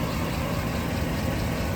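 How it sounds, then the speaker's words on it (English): The engine of a 2016 Chevy Express G2500 Quigley 4x4 conversion cargo van idles quietly with a smooth, even low hum, close and continuous throughout without other noises. "Engine very quiet, no abnormal noises. It starts right up."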